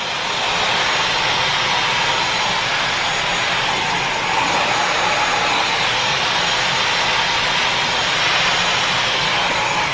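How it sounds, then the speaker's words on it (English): A handheld hair dryer set fully to cold blows a steady, loud, broadband rushing whoosh up close, constant for the whole stretch as it passes over hair, with no talking. "dryer on all cold, a cold set, and I'm just going to turn it on"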